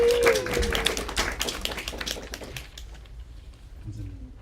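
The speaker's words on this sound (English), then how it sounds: "Give a round of applause." Audience applause at a bookstore reading, a short burst of clapping that starts strong and fades out over a few seconds, with a voice briefly audible.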